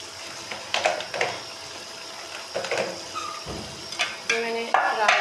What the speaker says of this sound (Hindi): और अब मैं इसमें शामिल करूँगी चने और फिर इनकी अच्छे तरीके से मैं करूँगी भुनाई